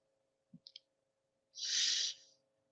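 A computer mouse gives a few quick, soft clicks close by, then a breathy rush of noise follows.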